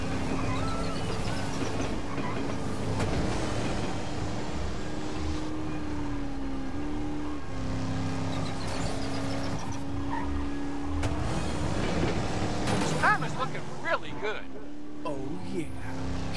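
Animated race cars tear around a track at record speed in Cars 3, engines droning and shifting pitch in a continuous roar, with a crowd-like bed and voices talking over it.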